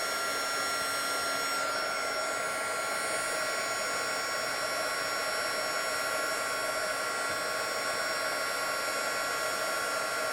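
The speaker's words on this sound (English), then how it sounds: "I'm going to again heat from underneath just to see that I don't have any spots that look like they need more powder." A heat gun blows a steady, loud, even roar from beneath powder-coated metal, running without a break and with no talk.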